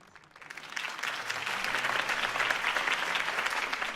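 A crowd claps and cheers after Harvey Dent's campaign speech in Batman: The Telltale Series. The applause swells quickly from quiet and holds dense and steady.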